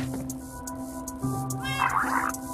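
A cat meows several times inside the video game Minecraft, with short clear calls standing out over a steady hum of game music and background tones.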